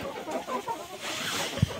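Chickens in a coop bedded with fresh wood shavings give soft, close clucks and murmurs, ending with one brief louder thump or cluck.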